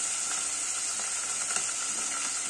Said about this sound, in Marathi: आणि आता हळद मीठ लावलेलं मटण टाकलं